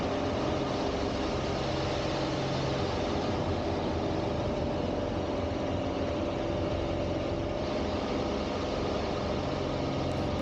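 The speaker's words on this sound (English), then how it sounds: "Now you notice the engine RPM remains pretty constant. It's a constant speed prop, the IO540 engine, working very hard during these maneuvers." An IO540 aircraft engine with a constant-speed prop drones loudly and steadily at near-constant RPM while working hard through aerobatic maneuvers in an MXS plane, with dense, unbroken noise throughout.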